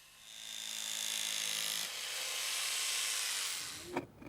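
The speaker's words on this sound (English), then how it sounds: "The panels are first cut to size." A power tool cuts a T2 Reflecta heat-reflecting underfloor insulation panel to size, giving a steady high-pitched whine that runs several seconds, then stops, followed by a brief clatter.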